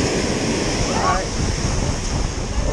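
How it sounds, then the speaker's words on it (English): Ocean waves wash continuously on a big beach as a loud, steady roar of surf mixed with heavy wind noise buffeting the microphone. "Oh, waves."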